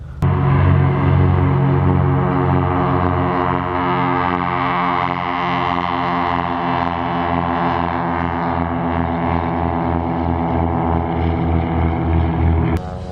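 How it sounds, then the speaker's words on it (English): A couple of airplanes taking off: a loud, steady roar of engine drone with rich layered tones, holding evenly for about thirteen seconds with no voices over it. "All it took was a couple planes taking off to wake him up."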